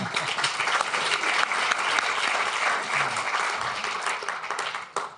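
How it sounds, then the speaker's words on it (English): Warm audience applause at Davos, a steady dense wash of many hands clapping that holds throughout, loud and close, before tapering near the end. "So warm applause for Yuval Harari."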